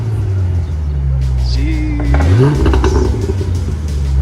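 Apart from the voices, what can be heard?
4.0 Mustang engine through Pypes Violator X-pipe exhaust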